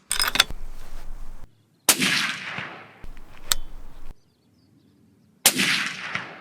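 Rifle shots on a long-range shooting range with targets out to 1,000 meters: four sharp, loud reports, each cracking and then rolling off in a decaying echo, with short silent gaps between them.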